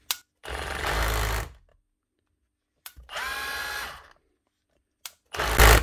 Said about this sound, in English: Brushless Milwaukee SDS.